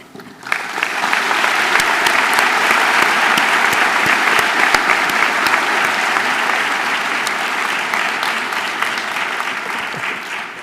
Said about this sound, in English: Ladies and gentlemen, please help me applaud Maestro Folletta.